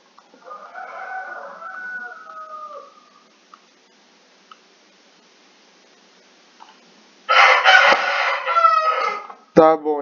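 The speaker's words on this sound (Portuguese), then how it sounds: "Como vocês podem perceber, eu tenho um galo em casa." A rooster crows at home, loud and close, with a long harmonic call near the end following a quieter stretch and softer earlier calls.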